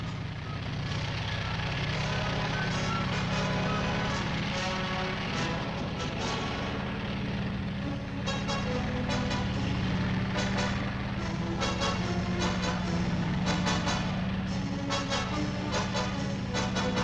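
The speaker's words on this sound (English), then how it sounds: "These are M48 tanks, the fast-moving cavalry of the 20th century." Heavy engine rumble with clanking and squealing tracks from M48 tanks driving past, a continuous loud roar with rhythmic metallic rattles growing stronger toward the end.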